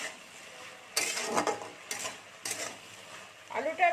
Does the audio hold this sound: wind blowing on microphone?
no